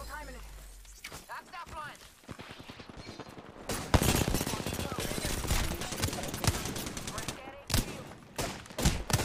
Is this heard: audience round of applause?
no